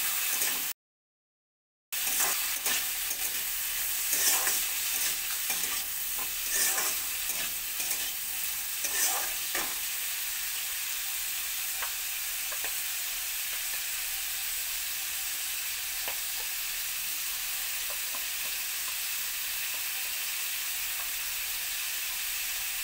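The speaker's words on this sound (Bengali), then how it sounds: "আলু গাজর একসঙ্গে ভেজে নেব" Potato and carrot fry together in a pan for vegetable chowmein, a steady crackling sizzle with frequent stirring scrapes early on. It settles into an even hiss later, after a brief dropout near the start, with no voices.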